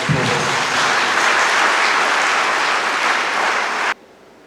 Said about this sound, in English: I'd like you to give a round of applause